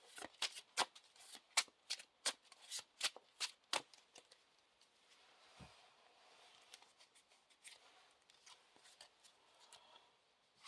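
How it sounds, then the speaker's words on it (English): Cards from a Lord of the Rings living card game deck being shuffled by hand, a rapid run of crisp riffling snaps at first, then a softer, scattered flutter of card slides and taps, close and alone. "Shuffle the Searching Eye into the encounter deck."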